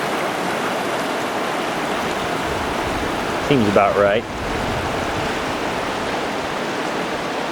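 The South Fork of the Merced River flows with a loud, steady rushing wash, and someone briefly speaks over it midway before the water continues alone.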